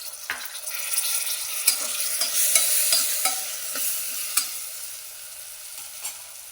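Rice, dal, potato and peanut khichdi is stirred in a pan over a soft sizzle, with a spoon scraping and clicking against the metal in irregular strokes, close and moderately quiet, with no voices.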